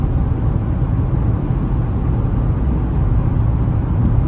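Steady low drone of a Hyundai i20 with a 1.4 MPI engine cruising in sixth gear at about 2000 rpm, heard from inside the car as an even engine and road hum with no talk.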